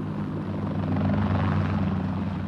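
A helicopter evacuating wounded French soldiers from Dien Bien Phu gives a loud, steady, close rotor and engine drone that holds without a break.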